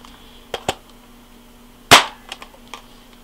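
A Tokyo Marui UZI spring-powered airsoft gun firing single shots: a pair of sharp snaps, a louder crack, then a few fainter clicks, close and otherwise quiet.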